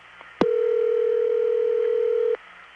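A steady 1970s long-distance telephone line tone starts with a click and holds for about two seconds, then cuts off, over faint line hiss.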